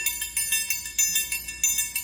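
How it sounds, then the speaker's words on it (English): A triangle struck repeatedly in a quick, bright rhythm, each metallic ring shimmering briefly before the next hit, close and clear. "Now we have our triangle."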